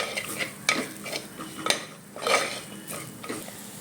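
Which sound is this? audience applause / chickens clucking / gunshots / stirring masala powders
stirring masala powders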